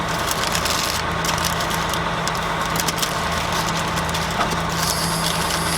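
A truck idles close by at a fuel stop, a steady low engine rumble with a constant hum running unbroken and fairly loud throughout, no talking.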